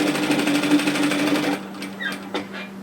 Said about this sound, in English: So what we're going to do is sew at 1 centimetre.